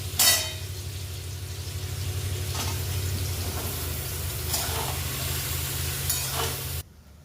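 Ridge gourd goes into a hot pan and sizzles steadily, with a few bursts of stirring and scraping over a low constant kitchen hum.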